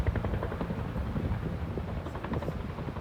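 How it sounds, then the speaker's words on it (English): A CHP helicopter flies overhead, a steady, loud rotor drone with rumbling low thump and wind noise, continuous and fairly close throughout. "I've got a buddy that flies these helicopters for CHP."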